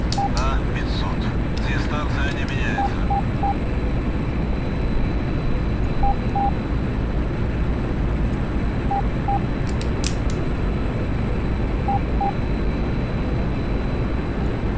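An aircraft taking off in the DCS flight simulator game gives a continuous loud roaring engine drone with faint periodic beeping tones throughout.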